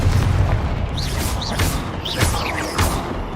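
Confringo spell blasts in Hogwarts Legacy: repeated booming impacts with whooshing magical streaks, several bursts in quick succession over a rumbling game soundscape.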